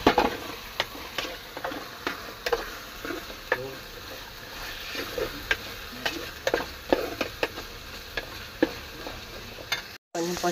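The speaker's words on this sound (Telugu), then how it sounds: "ఇది వేగిపోయింది, చికెన్ కూడా వేసేస్తున్నాం" Chicken frying in a pan, a soft steady sizzle with scattered clicks and scrapes of stirring, close but fairly quiet, with a brief cut near the end.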